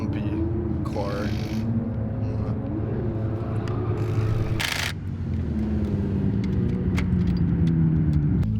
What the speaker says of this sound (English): Chunky, clunky, flumpy old car